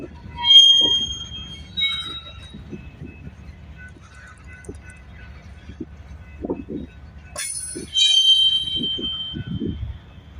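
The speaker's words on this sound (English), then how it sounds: "Cement train!" A CP ES44AC locomotive leading a CEFX cement train rolls past with a continuous low rumble of wheels and cars, punctuated by high metallic squeals, while excited voices cheer intermittently over it.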